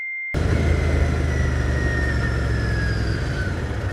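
Royal Enfield Continental GT 650 cafe racer being ridden, its 650 engine giving a steady, smooth, close drone with a faint high whine running over it. No one speaks.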